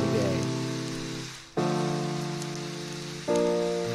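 A rain preset from the Kits Kreme Textures sample kit plays a hissing patter of rainfall blended with sustained tonal chords that restart twice, loud and evenly layered.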